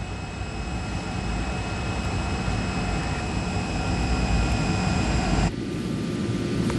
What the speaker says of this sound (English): the plane left the gate just before 2 o'clock in the morning